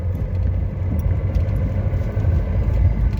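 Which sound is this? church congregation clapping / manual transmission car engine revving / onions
manual transmission car engine revving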